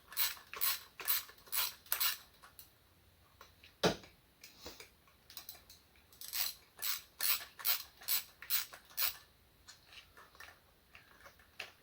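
A spark plug spins into the head of a Honda K24 engine with a socket, long threads giving rapid bursts of close metallic ratcheting ticks in two runs, separated by a single sharp clack, no voices.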